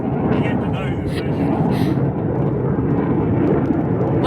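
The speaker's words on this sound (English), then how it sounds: "I think that's an F15. No, the first 2 were F35." A military fighter jet, an F-15 or F-35, roars overhead near farmland as a loud, continuous broadband rumble that stays steady throughout.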